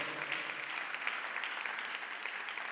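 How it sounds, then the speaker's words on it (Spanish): A church congregation claps loudly in praise during a sermon, a soft, distant-sounding wash of steady applause that continues evenly without any voices. "Denle un aplauso fuerte al Señor."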